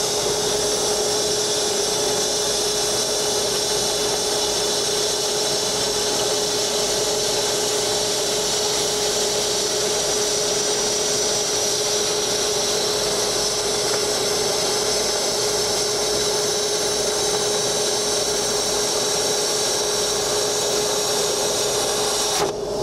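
Hypertherm Powermax30 XP plasma cutter slicing quarter-inch aluminum at a trade show, giving a loud, continuous rushing hiss with a steady tonal whine that runs unbroken throughout.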